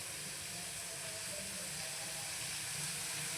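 Tomatoes fry in a pan while an egg sukka is being cooked, giving a steady, even sizzle throughout at moderate loudness with no talking.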